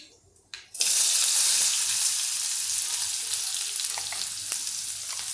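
After a brief quiet moment, asafoetida and onion drop into hot oil and burst into a loud, sudden sizzle that holds steady and fades slightly, with a couple of small clicks near the end.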